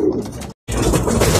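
Domestic racing pigeons cooing in a loft, a dense, close murmur of overlapping coos that breaks off briefly and then resumes just as full.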